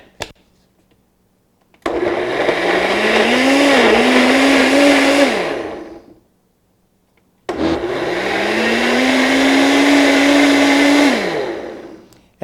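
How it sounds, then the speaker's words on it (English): A kitchen blender pulses chicken broth for enchilada suiza sauce in two long, loud whirring bursts of about four seconds each, separated by a short silence, with no talking. "And then pulse our blender."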